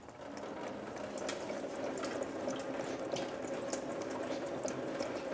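Coolant drains from a Nissan 240SX S13 KA24DE engine into a pan below, a faint, steady trickle and splatter that runs continuously with no one talking.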